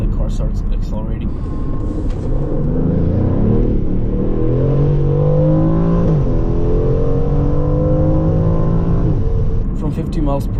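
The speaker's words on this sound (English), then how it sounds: "at full throttle the car just stops RPM going higher at 4K RPM for a small pause that lasts like half a second, then the car starts accelerating" Aston Martin Vantage at full throttle, engine note climbing steadily as revs rise, a brief flattening near the middle, then rising again; loud, close and continuous, with a sharper burst at the start and end.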